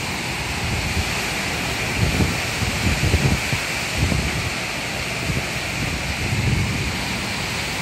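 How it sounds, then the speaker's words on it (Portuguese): A strong gale during a windstorm in Florianópolis roars steadily against a hotel window, a dense broadband rush with gusty surges and no pauses, loud and close. "pega o vento de cara na janela"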